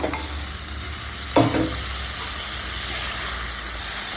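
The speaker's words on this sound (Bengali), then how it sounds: "দেখো কতটা সুন্দর করে কষিয়ে নিয়েছি মশলাটা এখন কড়ায় লেগে যাচ্ছে" Spice masala, sticking a little, sautéed in a wok for a bhola fish curry with tomato and onion: a constant close hiss and sizzle of stirring, broken by one short clunk of the spatula early on.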